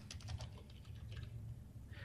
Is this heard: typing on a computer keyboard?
yes